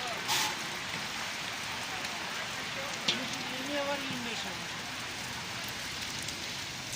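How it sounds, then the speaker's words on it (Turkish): Heavy rain falls at an outdoor market, a soft continuous patter on surfaces, fairly quiet, with faint background voices and a brief clatter near the middle. "Çok fena yağmur."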